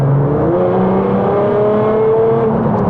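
A Litchfield-tuned 757 bhp Nissan R35 GT-R Nismo track-spec with dual-clutch gearbox and titanium exhaust tips revs hard up close, one loud sustained rising engine pull with no talking.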